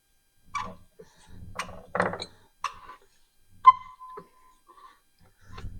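A seized hot tub pump impeller is forced around by hand, giving a few separate scraping, ratcheting turns with dragging squeaks between quiet gaps, close and fairly faint.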